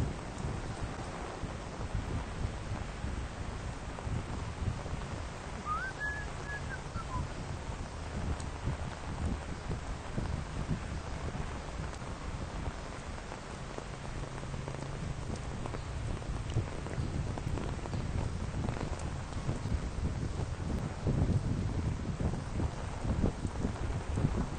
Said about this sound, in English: No, it's a typhoon, actually.